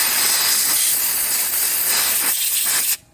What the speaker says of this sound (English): I hooked up my air compressor and I blew out all the